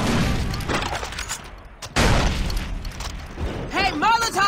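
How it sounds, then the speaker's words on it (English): A grenade blast in Far Cry 3 co-op, heavy booming bursts up close with a second loud hit midway, amid gunfire and shouting voices. "Throwing a grenade!"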